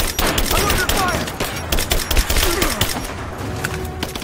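Dense rapid gunfire fills a Rise of the Tomb Raider battle, loud and continuous bursts with impacts and shouting voices mixed in.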